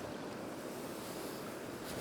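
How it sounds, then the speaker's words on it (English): Surf rolls onto a Northumberland beach during a cod fishing trip, a steady close wash of breaking waves with wind noise and no talking. "See the waves breaking in front of us."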